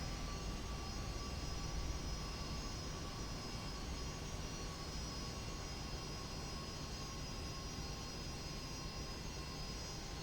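An airliner taxis in the X-Plane flight simulator, its engines a steady, faint, unbroken hum and whine throughout, with no other sounds standing out.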